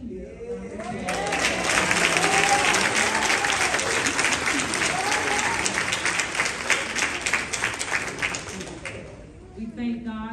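Congregation at a funeral home-going service bursts into sustained, loud applause, which swells quickly, holds steady for several seconds, then tapers off, with a voice briefly audible near the end.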